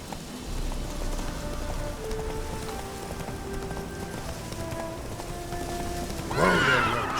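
Roach, a horse in The Witcher 3, lets out a short whinny near the end over a bed of rain, hoof clops and low ambient game sound.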